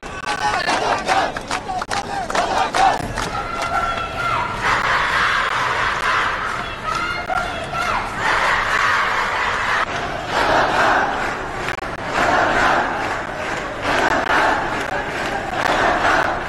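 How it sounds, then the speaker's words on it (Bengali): A large street crowd chants the 'Razakar, Razakar' slogan in loud rhythmic unison, the repeated cries rising in waves over a constant roar of voices. "তবে দিনটি ইতিহাসে জায়গা করে নেয় রাজাকার রাজাকার স্লোগান ঘিরে"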